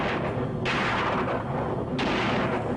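Two sharp gunshots ring out in an old black-and-white monster film, each a loud broadband blast with a short decaying tail, spaced about a second and a half apart.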